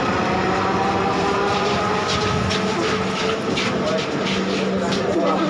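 Dhaka metro rail train ride, a steady loud rumble of the carriage in motion with faint rail clatter, continuous throughout while people talk nearby.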